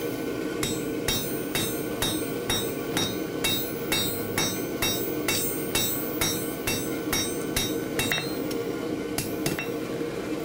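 A blacksmith strikes hot metal on an anvil with light hammer blows to smooth the surface, about fifteen bright, ringing taps in a steady quick rhythm, close and clear with no talk.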